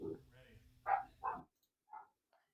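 Dogs barking indoors, stirred up by a thunderstorm: several short, faint barks spread apart, with someone talking at the start.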